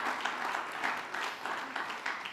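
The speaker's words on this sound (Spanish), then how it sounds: "dale un aplauso al Señor" Church congregation applauding during a Spanish-language sermon, a steady moderate wash of clapping with slight swells, no talk over it.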